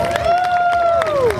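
An outdoor crowd at a rescued-dog show cheers and claps for a flying frisbee dog, a three-year-old mixed breed. Sharp scattered claps sound under a sustained, rising-and-falling whoop or whistle from the audience.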